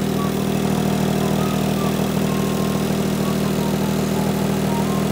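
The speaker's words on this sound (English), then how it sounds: "There's a bit of a rattle from here." A Smart ForTwo 451 idles steadily, its loose, unwelded exhaust adding a low buzzing rattle to the constant engine drone, close and loud with no pauses.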